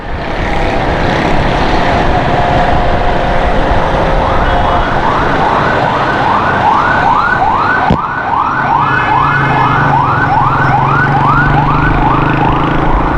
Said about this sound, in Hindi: फायर ब्रिगेड की गाड़ी आ रही है, कहीं आग लगी होगी